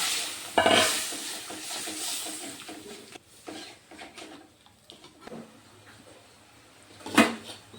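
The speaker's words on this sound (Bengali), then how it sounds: "মশলা ভাজা হয়ে গেছে, আমি এখন জল দিয়ে দিচ্ছি।" Water poured onto fried spices in a pan for a fish roe curry, setting off a loud burst of sizzling and hissing that fades to softer bubbling and stirring, with a few sharp clatters.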